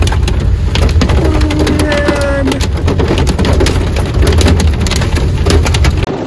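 Hail pelts down hard during a storm in Udaipur, a dense, loud, continuous clatter of sharp impacts on surfaces with a low rumbling roar underneath and no clear talk.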